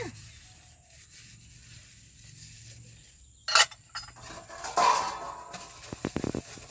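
Pots and dishes being scrubbed and washed in a home setting: a few short clattering, scraping bursts break a quiet, low background, with the sharpest knocks coming near the end.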